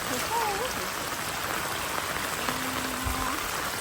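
Heavy rain and a rushing, overflowing stream make a steady, dense roar with no breaks, and a faint voice is briefly heard underneath.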